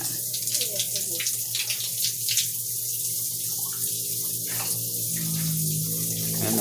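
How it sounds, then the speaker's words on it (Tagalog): A shower fed by a newly installed pressure tank and 1.3 HP water pump runs with a steady, close hiss of spraying water over a low pump hum, while a person talks throughout. "Tapos ito yung shower."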